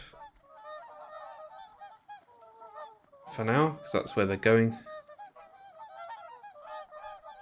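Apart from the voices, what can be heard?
geese honking in video game Settlement Survival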